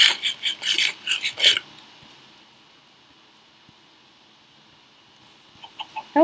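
Chickens cluck in the Minecraft video game, a cluster of quick, clipped bird calls at the start, then near quiet, then a few more clucks at the end.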